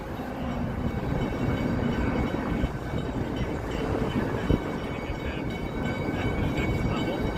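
A CTA elevated train rumbles steadily across the double-deck Wells Street Bridge in downtown Chicago, a continuous loud roar with a brief clank partway through, heard alone.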